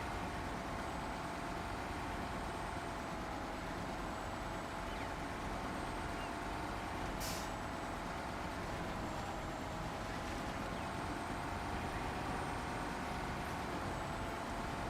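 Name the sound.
Mercer truck engine and air brake in SnowRunner video game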